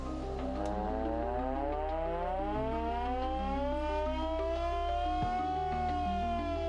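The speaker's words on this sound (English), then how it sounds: "Next is the air raid siren." An air raid siren wails loud and steady, its pitch slowly climbing and falling in a long sustained howl over a low constant drone, with no voices.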